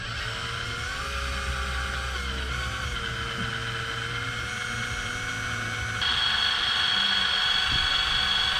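A right-angle drill runs in the engine bay of a barn-find MK2 Jetta. It gives a continuous close whine that holds steady, then steps up louder and brighter for the last few seconds.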